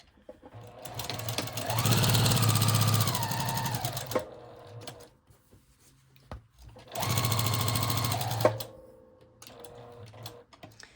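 Two separate bursts of sewing machine stitching around the outside edge of a fabric folio, each a loud, close, rapid motor run of a couple of seconds that winds up, holds and stops, with quiet handling ticks in between.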